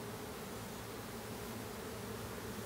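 A honeybee swarm in a bee yard, caught from a low branch, makes a dense, steady buzzing drone that fills the clip without a break and with no voices.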